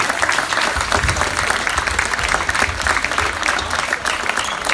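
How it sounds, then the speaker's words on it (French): At a fair play charter ceremony, the audience claps for the club's referees, a steady, moderately dense round of applause with no talk over it. "Je vous demande encore, mesdames, mesdemoiselles, messieurs, d'applaudir les arbitres du club du 3S à la jouer."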